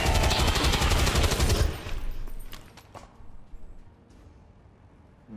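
Automatic rifle fire from a flank shot in the video game XCOM 2 rattles as a loud, dense burst, then tapers into scattered lighter shots and echoing debris as it fades.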